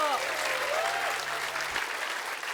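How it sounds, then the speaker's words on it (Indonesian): Studio audience applause on an Indonesian comedy variety show, dense steady clapping filling the whole stretch with a sustained music tone underneath at the start. "Tepuk tangan dulu."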